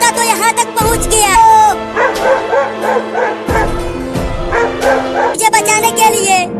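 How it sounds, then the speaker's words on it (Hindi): A dog yips and barks repeatedly while chasing a boy through a street in a comedy sketch. The bursts come close and fairly loud, mixed with whimpering tones, and voices talk around them. "अरे ये कुत्ता तो यहाँ तक पहुँच गया।"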